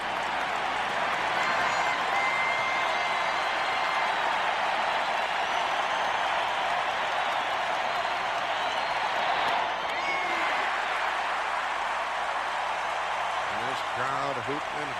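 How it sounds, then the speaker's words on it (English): A baseball stadium crowd at Game 7 of the 1991 World Series, Atlanta Braves at Minnesota Twins, keeps up a steady, dense roar of hooting and hollering that carries on without a break. "Crowd hooting and hollering on each pitch"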